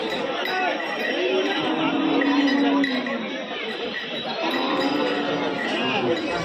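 Animals at a village cattle market that also trades goats, ducks and chickens: a few drawn-out bleats stand out over a constant murmur of crowd chatter, with faint clinks scattered through the busy outdoor din.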